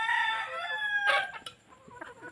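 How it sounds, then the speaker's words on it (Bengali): Desi native-breed chickens in a backyard flock, with a rooster's crow ringing out loud and close, followed by a few quieter clucks as it fades. "এগুলো সব আমার দেশি মুরগি।"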